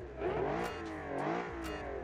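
A 1970 Italian V12 coupe engine revs up and down in a couple of rising and falling surges, a fairly close, steady mechanical roar with no voices.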